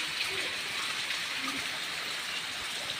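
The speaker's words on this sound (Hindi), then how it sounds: "ये देखिए दोस्तों, बहुत सारा बारिश हो रहा है" Steady, dense hiss of heavy rain pouring down continuously, a broad wash of sound with no pauses or other clear sounds.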